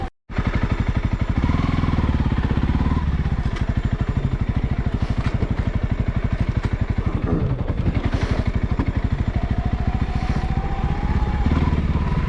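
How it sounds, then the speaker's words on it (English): Honda CRF300L motorcycle chugs along steadily in arctic cold around -10°C, a close, even thumping single-cylinder beat that holds constant throughout. "this Honda CRF300L sure tractors along pretty good."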